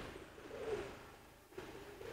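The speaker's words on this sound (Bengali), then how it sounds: "তো এইখানে একটা কবুতর আছে মাশাআল্লাহ।" A silver pigeon gives a soft, low coo, faint and close in a quiet room, with a second brief murmur near the end.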